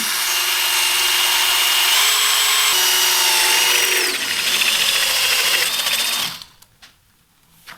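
A power drill whines steadily at high speed, its pitch shifting slightly as it bores through metal on a motorcycle tow hitch bar, then cuts out and leaves near silence.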